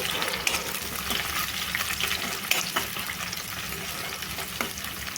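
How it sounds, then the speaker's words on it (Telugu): Onions and green chillies fry in a pan for an Indian-style raw banana and tomato curry, a steady close sizzle with occasional stirring scrapes and clinks throughout, no talking. "దీంట్లో పచ్చిమిర్చి వేస్తున్నాను పచ్చిమిర్చి కూడా బాగా ఫ్రై అయిపోవాలి"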